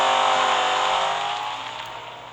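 The 2010 BMW Z4 GT3 race car in Real Racing 3 revs hard, a loud sustained engine roar that holds high and then slowly eases off and fades, heard alone with no talking.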